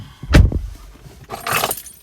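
Keys for a 2016 Ford Ranger 3.2 TDCi Wildtrak pickup jangle close and loud, first in a sharp metallic clatter, then in a second longer shake.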